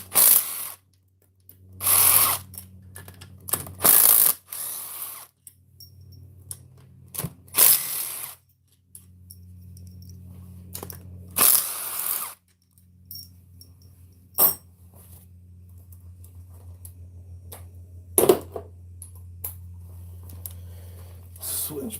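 Ratchet and power driver work on engine case bolts of a 2019 Can-Am Outlander 850 during teardown: several loud bursts of whirring and clicking separated by pauses, with quieter mechanical handling in between.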